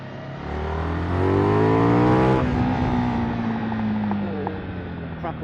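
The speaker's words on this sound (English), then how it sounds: "Crackle, crackle from the exhaust." A 2024 KTM 990 Duke motorcycle revs hard on the road, its engine note climbing, then backs off as the exhaust crackles and pops in a loud series of sharp bursts near the rider.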